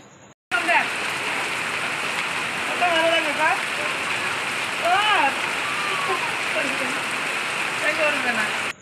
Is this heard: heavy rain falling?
yes